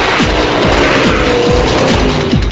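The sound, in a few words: 1966 Corvette Sting Ray 427 L72 big block engine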